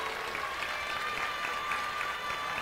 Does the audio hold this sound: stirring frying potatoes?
no